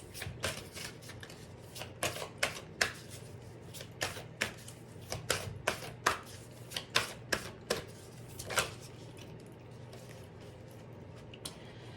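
Oracle cards are shuffled by hand in a quiet room, giving a run of crisp, rapid riffling bursts in irregular clusters, close and fairly soft, with no talking over them.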